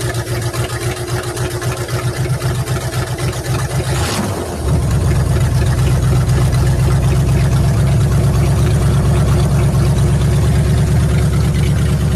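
A 1955 engine running on old fuel poured into the carburetor bowl, idling steadily with a low rumble, briefly dipping and stumbling before settling into a louder, even idle close by.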